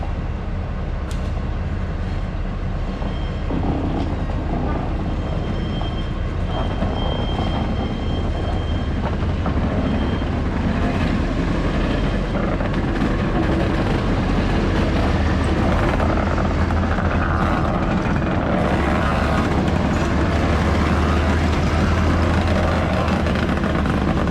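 Texas State Railroad train passing a campsite in the dark, a continuous loud rumbling roar close by that holds steady throughout with no pauses.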